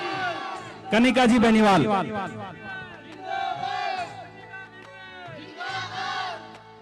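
A village crowd at an RLP election rally in Khudkhuda Khurd raises a loud burst of cheering and slogan-shouting, then keeps up cries and chanting in rising waves while an announcer speaks over a PA system.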